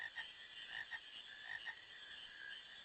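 Frogs croaking in a marsh in the video game Final Fantasy IX, a faint chorus of repeated short croaks over a steady background drone.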